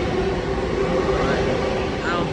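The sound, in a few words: express train passing through Mineola station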